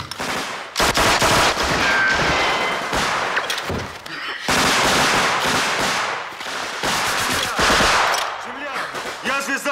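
Bursts of gunfire from a war drama with a sniper in play, loud and chaotic: dense crackling volleys in several waves with short gaps, echoing close by, with faint voices mixed in.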